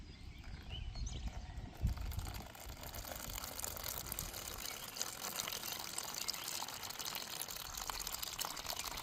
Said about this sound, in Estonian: Tõe hetk, valame vee sisse,